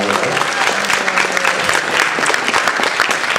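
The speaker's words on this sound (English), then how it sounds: "big round of applause for Chaz to get all this time out of here" An audience at a convention opening ceremony claps loudly and steadily, a dense wash of many hands that carries on without a break.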